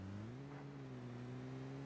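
A car in a video game pulls away, its engine holding a steady droning hum that rises slightly in pitch, close and continuous without voices.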